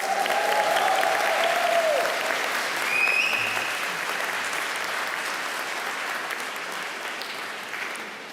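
A graduation ceremony audience claps loudly and continuously, sustained applause filling the hall and tapering slightly toward the end, with a few faint whistles.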